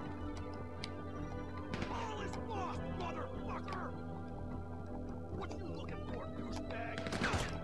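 Gunfire in GTA 5 Online, scattered shots and short bursts heard at a distance beneath a steady game ambience, with a sharper cluster near the end.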